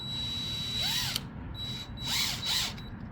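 A handheld power drill drives screws into wooden gate boards in two or three short whirring bursts, each pitch rising as the motor spins up and falling away, close and clear over a low background rumble.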